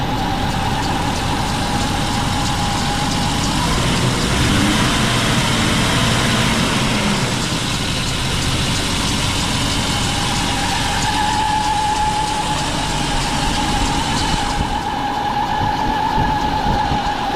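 A Renix Jeep Comanche engine runs steadily with belt noise, a loud continuous idle hum with a whining tone on top, close and unbroken throughout.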